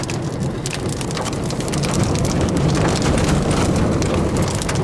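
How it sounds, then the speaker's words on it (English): Heavy rain with big raindrops pours steadily on surfaces, a loud, close, dense patter that grows slightly stronger midway, with no voices. "Big raindrops."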